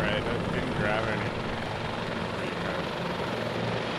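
A helicopter in the military game Arma 2 roars steadily and close, its rotor and engine noise forming a dense, unbroken wash with faint voices buried beneath it.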